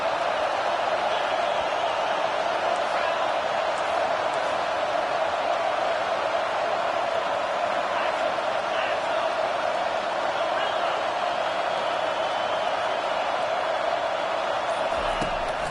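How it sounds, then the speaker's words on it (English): A stadium crowd at a football game on third down roars in a steady, dense wall of cheering that holds throughout, with a commentator's voice over it. "Decibels rising as the crowd gets behind this defense on third down."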